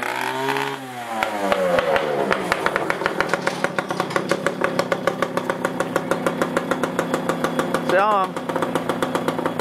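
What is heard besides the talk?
Kawasaki KX65 dirt bike engine idling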